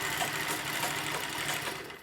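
A sewing machine runs steadily while doing picot edging on fabric, a fast, even, close whirring with no talking.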